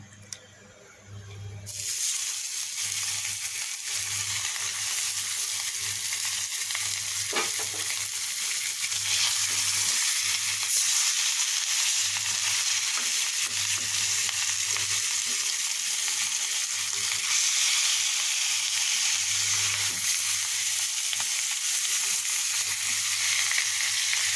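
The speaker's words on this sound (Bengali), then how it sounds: "এখন আমি রুই মাছ রান্না করব তাই যে হলুদ লবণ মাখিয়ে রেখেছি এখন ফ্রাই করে নেবো" Rohu fish marinated in turmeric and salt fries in hot oil, giving a steady, loud, close sizzle with a continuous crackling hiss that holds through the whole stretch after a brief quiet start, with a low hum beneath.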